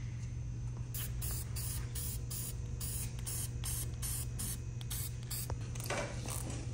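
Aerosol spray can hissing in repeated short bursts over a steady low hum, painting a steering knuckle during a Spyntec hub conversion, close and continuous with brief pauses.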